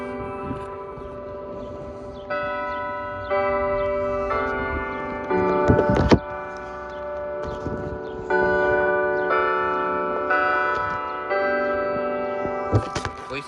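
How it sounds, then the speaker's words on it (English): Church bell ringing in a series of loud, sustained strikes with long overlapping tones, each new strike arriving every second or so, with no talk over the tolling. "Here's the bell for 6K subscribers."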